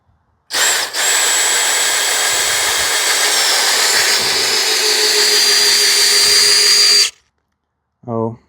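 A power drill bores into wood during a shed build, running loud and steady for about six seconds with a slight pitch shift as it bites, then stopping, followed by a brief separate tonal sound.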